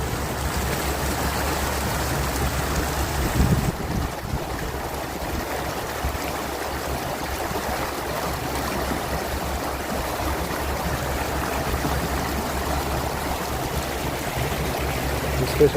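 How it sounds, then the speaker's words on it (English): A small trout stream runs close by, a loud, continuous rushing and babbling of water that fills the whole stretch without pause. "It's probably loud on stream with this water running next to me"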